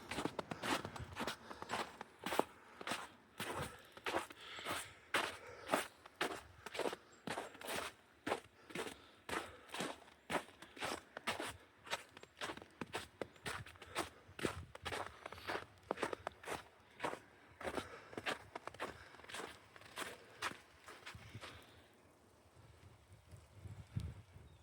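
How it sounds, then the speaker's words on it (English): Footsteps crunch through dry leaves on a nature trail in Kensington, Prince Edward Island, a steady close rhythm of rustling steps that slows and fades near the end, with light wind. "Sound of the leaves rustling."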